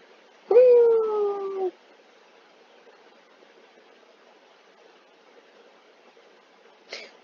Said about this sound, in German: Oh, da ist noch ein Hund, da ist ein Husky.